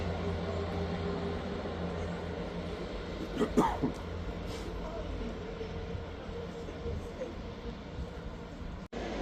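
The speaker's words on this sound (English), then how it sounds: "Passing through now is a Scotrail service from Edinburgh Waverley to Aberdeen." A Scotrail service from Edinburgh Waverley to Aberdeen runs through Inverkeithing station, a fairly quiet, steady rail rumble with faint clattering heard from a distance.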